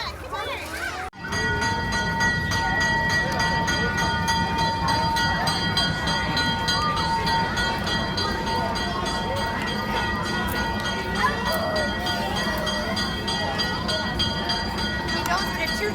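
Toy Thomas train running with continuous rolling and whistle-like tones, loud and steady for most of the span after a brief quiet start, with children and adults talking in the background.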